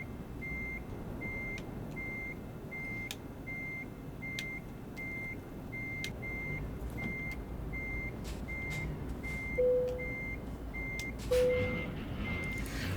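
Truck reversing alarm in Euro Truck Simulator 2 while parking a Scania electric truck: evenly spaced repeating beeps over a low steady hum, with a couple of brief higher electronic tones near the end, no talking.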